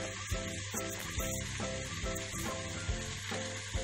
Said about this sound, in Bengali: চাউলটা ভাজা ভাজা হয়ে গেছে